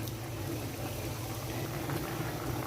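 Pure coconut milk simmering in a pot for Filipino laing, a soft continuous bubbling and gentle roiling, faint and steady throughout.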